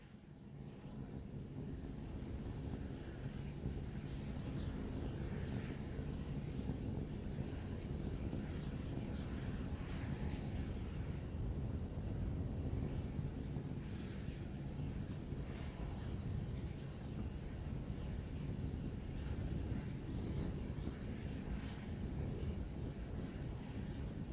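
SpaceX Starship SN15 rocket climbing in flight, heard as a steady, continuous broadband roar with a low rumble and wind-like hiss, loud and unbroken throughout with no pauses.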